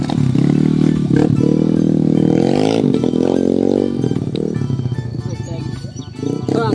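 A motorcycle carries camping gear toward a forest campsite in Jampang, West Java. Its engine drones loud and close, pitch rising and falling as it revs, for several seconds.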